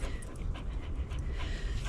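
A dog pants quickly and steadily at an ocean beach on the Washington coast near Westport, close and continuous breaths over a broad wash of wind and surf.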